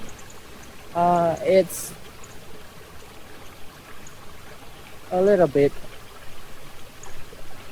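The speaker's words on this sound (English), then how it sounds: "as you guys can already hear from the sound, it is the waterfall, natural waterfall" A natural waterfall on a trip near Kampot gives a steady rushing, streaming wash throughout, moderately loud, with someone speaking briefly over it twice.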